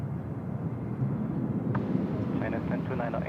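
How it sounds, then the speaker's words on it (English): Airbus A380 jet landing at Seoul Incheon Airport, a broad rumbling roar with a wind-buffeted rush and rising whine partway through, fairly loud and steady. "A380 just dropping it in now."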